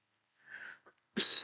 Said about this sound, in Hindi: अरे जुकाम खांसी बहुत ज्यादा है